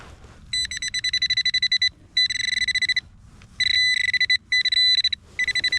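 A metal detector sweeping for buried targets outdoors in a winter thaw gives a high, bright electronic warble in repeated bursts with short gaps, over a low background rumble, with no talking.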